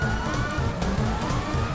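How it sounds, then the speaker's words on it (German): A police car siren wails in the video game GTA, loud and continuous with rising and falling tones over a low engine rumble. "Wie mach ich denn die scheiß Sirene aus?"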